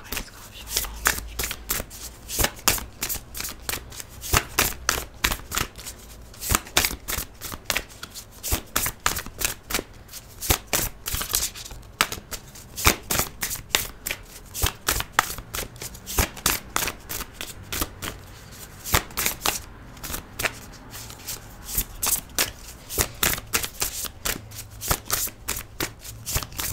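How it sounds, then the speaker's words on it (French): Tarot cards shuffled by hand, a long run of quick crisp riffling snaps close up and fairly loud, repeating steadily throughout with a soft voice faintly underneath. "si j'arrive à battre les cartes, ça serait bien"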